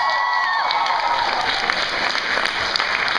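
Dense, steady applause from a fan convention panel audience, filling the room with continuous clapping and a bit of crowd noise.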